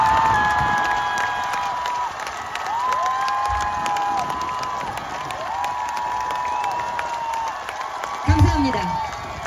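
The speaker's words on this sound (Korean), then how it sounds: "한동훈 전 국민의힘 당대표에게 큰 박수를 보내주시기 바랍니다" A crowd of supporters at a presidential campaign launch rally for Han Dong-hoon cheers and shouts, with scattered clapping and wavering horn-like tones over a busy, loud outdoor din that surges briefly near the end.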